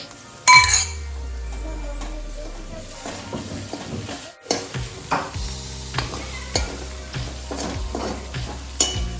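Green chili, ginger and garlic paste fries in oil with green peas, a soft sizzle under repeated clinks and scrapes of a spoon stirring against the pan, with a sharp clatter near the start.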